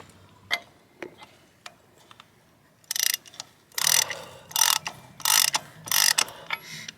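A hand ratchet turns a die onto a trailer wheel stud in a series of close, rhythmic clicking strokes after a few scattered taps and clinks, with no voices.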